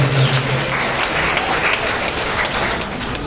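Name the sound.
loud applause from audience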